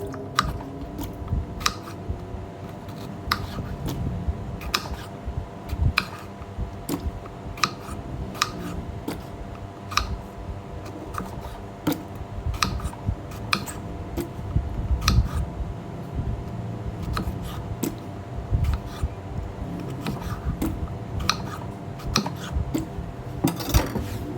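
Repeated crisp knife chops on a cutting board as vegetables and red chillies are sliced, steady and close, with a low background hum throughout.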